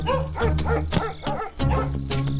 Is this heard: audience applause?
no